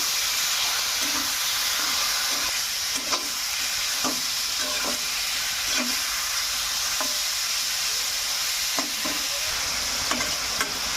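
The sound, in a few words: chicken and onions being stirred and fried in a pan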